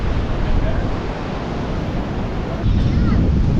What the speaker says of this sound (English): The breeze on the beach is pretty cold.